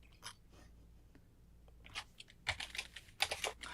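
Typing on a computer keyboard in Hebrew: a few scattered clicks at first, then faster bursts of close keystrokes toward the end, with no talking.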